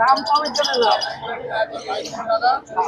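Sun conures at a pet bird market in Serampore, Kolkata give a dense, close run of sharp chirps and squawking calls that overlap continuously, with voices mixed in underneath.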